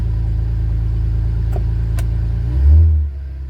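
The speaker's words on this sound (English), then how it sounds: "For a twin-turbo V6, it is not a bad sounding car at all." A Cadillac CT4-V Blackwing's twin-turbo V6 idles with a loud, deep steady rumble, then gives a short rev that swells and falls back near the end.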